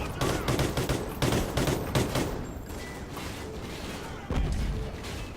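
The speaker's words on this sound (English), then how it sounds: "Where's the enemy fire coming from?" Enemy gunfire in Call of Duty: Ghosts: bursts of rapid shots, loud and close, crowd the opening seconds, thin out to scattered cracks, then a heavy blast near the end.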